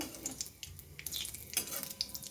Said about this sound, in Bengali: পাঁচ ফোড়ন শুকনো লঙ্কা ফোড়ন দিয়ে দিয়েছি ফোড়নটা এবার খুব ভালো মতন ভেজে নেব